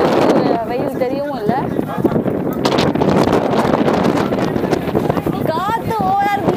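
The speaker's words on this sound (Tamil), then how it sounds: "காற்று ஓவரா இருக்கு" Strong seaside wind at Kanyakumari roars and buffets the microphone without a break, loud and close, while voices talk over it throughout.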